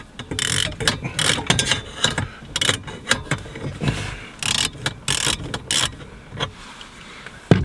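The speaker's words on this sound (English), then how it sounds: "So we get our ratchet, it's a 13mm bolt." A ratchet works a 13mm bolt behind the radio of a Fiat Abarth, producing close, repeated clicking bursts in uneven runs with short pauses between them.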